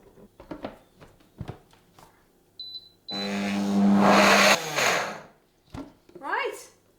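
A blender whirs through cacao and chia energy ball ingredients in one loud burst lasting about a second and a half, set between quieter kitchen clatter and spoken remarks.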